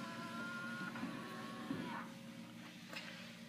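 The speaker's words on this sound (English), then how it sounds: "and power folding mirrors" Power folding mirrors on a 2013 GMC Sierra 1500 4WD Crew Cab SLE fold with a faint, steady electric motor whir lasting a few seconds, close and quiet.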